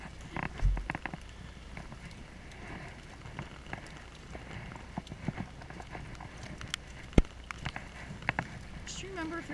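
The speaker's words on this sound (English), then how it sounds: "It's raining so much," Heavy downpour drumming on a shelter roof at a horse barn, a steady dense hiss with occasional louder drips and knocks; horses shuffle nearby and a person talks briefly.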